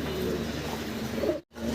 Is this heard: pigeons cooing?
yes